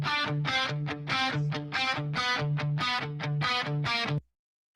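Kirby's on Deck outro song plays loud and steady: a bright, distorted chiptune-style melody over a bouncing low bass line, repeating short phrases before cutting off abruptly into silence.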